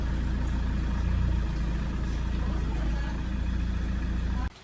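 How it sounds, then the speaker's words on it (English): A car engine idles steadily while warming up, a constant low rumble with a faint hum running evenly before cutting off abruptly near the end. "the engine has been warmed up for about 15 minutes"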